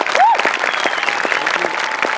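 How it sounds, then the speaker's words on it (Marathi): A studio audience at a Marathi comedy show bursts into loud, close, energetic applause, dense rapid clapping throughout with a brief whistle at the start. "एकदा जोरदार टाळ्या"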